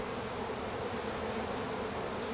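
Honey bees at an open hive, drones among them, hum in a dense, steady buzz that fills the air close by and never lets up, with no voices.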